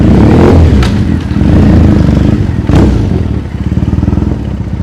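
Motorcycle with a custom exhaust rumbling loud and close on a Tokyo street, its deep burbling engine note rising in two revving surges over a throbbing idle.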